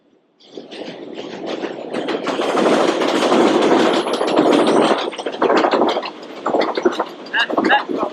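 Metro train rolling by right overhead, a loud, close rumble with rapid clattering that swells after the first half-second, holds steady, then breaks into choppier bursts as it passes.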